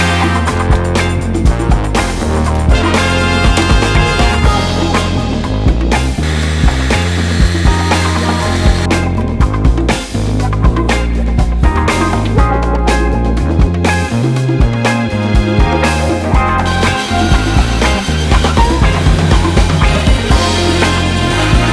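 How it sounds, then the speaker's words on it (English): A bandsaw cuts through a stack of polycarbonate sheets with a loud, steady mechanical whine and shifting cutting tones, running continuously alongside background music, with no talking. "And then on the bandsaw, I'm gonna cut this shape out."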